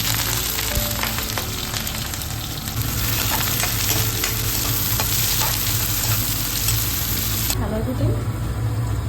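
Onion and chili fry loudly in hot oil for an Assamese bamboo shoot dish, a dense continuous crackling sizzle with intermittent stirring scrapes, close and steady throughout before a brief shift near the end.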